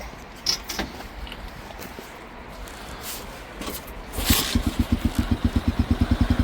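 A £150 motorbike engine, recently welded and rewired with a reconditioned battery, fires up near the end and settles into a fast, even, pulsing idle, close and fairly loud after some quiet handling noises.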